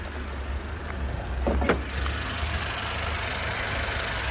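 A Honda car engine, a Japanese import at a car market, idles quietly with a soft, steady low hum, briefly broken by a faint click before settling back to a smooth murmur.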